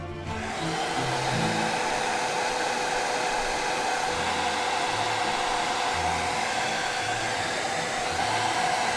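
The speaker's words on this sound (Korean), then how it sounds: "드라이기로 한번 말려볼게요" Close, loud hair dryer blowing steadily on a wet camera, a continuous airy whoosh with motor whine that starts abruptly and holds constant for the whole stretch, without voices.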